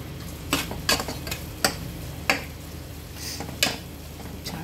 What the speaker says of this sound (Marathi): आता हे आपण मसाले पुन्हा एकदा कांद्याबरोबर एकजीव करून घेऊया